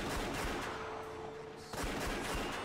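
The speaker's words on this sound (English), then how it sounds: "The men's handguns all spat fire at once" Handguns fire in a burst of overlapping shots during a shootout in the Rose Guns Days video game, loud and dense, with a brief lull before a fresh volley.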